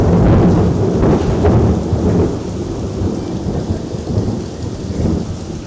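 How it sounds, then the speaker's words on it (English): Heavy rain pours steadily in Costa Rica with deep rumbling thunder rolling underneath, loud and close throughout. "fighting the rain the whole time."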